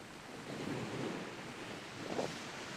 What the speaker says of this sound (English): I'm gonna put the microphone closer to my face because the waves are pretty loud